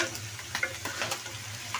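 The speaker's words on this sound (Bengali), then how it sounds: "তেল আর অল্প একটু লবণ দিয়ে ভালো করে ভেজে নিতেছি।" Onions sizzle in hot oil with a little salt, a close, steady crackle of frying with scattered pops and light stirring scrapes running throughout.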